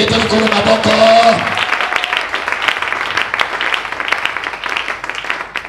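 Church congregation applauding and cheering in praise of God during a Monday worship service, a dense wash of clapping and voices that stays strong throughout, with a brief sustained tone near the start.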